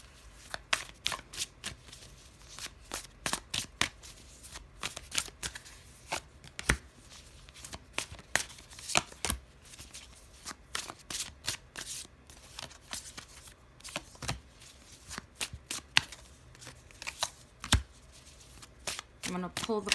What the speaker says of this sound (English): I'm going to pull the cards and then I'll give you guys the reading